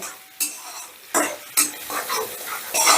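Spoon stirring already-fried masala spice mix in a pan for masala paneer, giving light scraping strokes over a soft steady sizzle, close and moderately loud, with a few clearer scrapes at irregular intervals.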